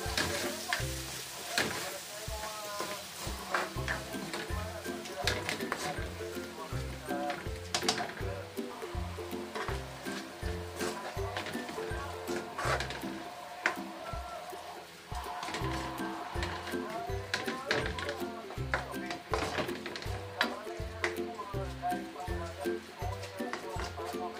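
Garlic pepper beef with all-purpose flour cooks in a pan, a steady sizzle overlaid with constant rhythmic scraping and stirring clatter, close and busy throughout without any voice.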